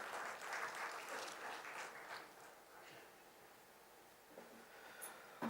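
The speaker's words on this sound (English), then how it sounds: "We welcome Sahil with a big round of applause on the stage." A conference audience applauds a speaker walking on stage at an inauguration event in Chennai, a steady mid-distance clapping that lasts several seconds and then thins out.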